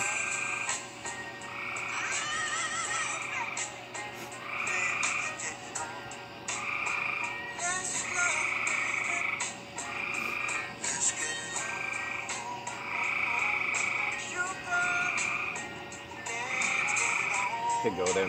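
Tree frog croaks in repeated rhythmic bursts, loud and close, over a constant background drone that stays steady throughout.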